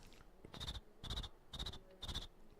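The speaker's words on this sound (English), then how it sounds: "it does sound like a cricket" A cricket chirps in four evenly spaced bursts about half a second apart, each a rapid high trill, quiet against a soft background hiss with no one talking.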